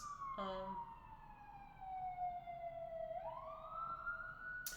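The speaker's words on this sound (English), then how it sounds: "Oh, more sirens." A siren wails in the distance, its tone sliding slowly downward and then rising again, steady and prominent over low background rumble.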